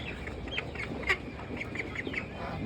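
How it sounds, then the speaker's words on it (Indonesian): Ducks quacking on a farm where meat ducks are raised, several short calls scattered across the moment over a steady background murmur, moderately close with no talking. "Ini tadi bebek yang saya pisah."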